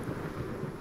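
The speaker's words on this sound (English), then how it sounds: "Are you saying that this is not a real storm?" Simulated thunderstorm in Second Life, heard as a steady dense roar of wind and rain with low rumbling underneath, continuous and fairly loud throughout.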